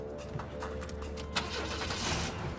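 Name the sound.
car engine starting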